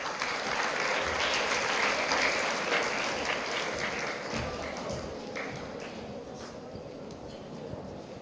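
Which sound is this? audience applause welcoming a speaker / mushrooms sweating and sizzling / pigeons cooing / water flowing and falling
audience applause welcoming a speaker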